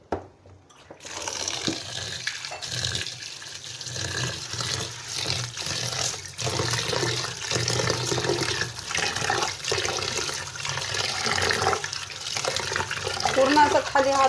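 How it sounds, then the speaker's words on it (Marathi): Soaked wheat is rinsed by hand in water, with steady sloshing and splashing close by that grows a little more vigorous over about fourteen seconds. "अजून एकदा पाण्यात धुते"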